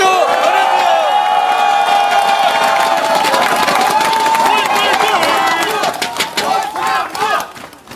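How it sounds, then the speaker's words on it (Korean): Crowd of townspeople in Wonju cheering and applauding loudly in welcome of a visiting party leader at a political campaign rally, a dense continuous roar with voices and whoops throughout, thinning out near the end. "환영의 박수 보내드립니다"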